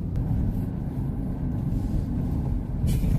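Inside a car driving through Hong Kong, a loud, steady low rumble of road and engine noise fills the cabin without pause.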